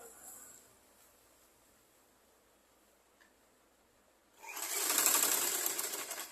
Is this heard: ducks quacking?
no